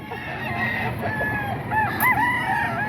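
A 10-month-old hatch gray gamecock rooster crows loudly and close by, its call rising and falling in a couple of strained phrases over steady background noise, with no one talking.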